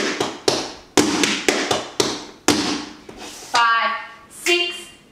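Sharp tap shoe strikes in a quick syncopated run, bright clicks and heel drops on a hard floor, close and loud, ending in scuffing slides.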